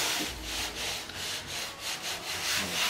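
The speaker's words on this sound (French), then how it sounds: "je vais faire la ponceuse pour tout dégrossir" A power sander roughs down car bodywork in a series of rhythmic abrasive rasping strokes, fairly quiet and steady, with no voices over it.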